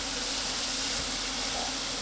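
Broccoli stir-frying in a pan, giving a constant loud sizzle and hiss that runs unbroken from start to finish.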